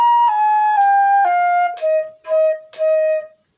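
A flute plays measures 11 and 12 of a band exercise: a clear, close run of steady notes stepping downward, with light breathy articulations between them and short gaps near the end.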